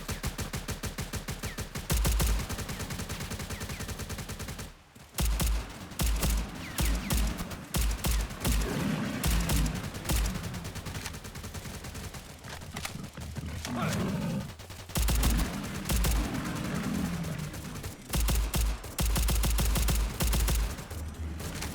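Shotgun blasts in Stalcraft: X, a string of loud, punchy shots at irregular intervals over dense game audio, with brief gaps between bursts.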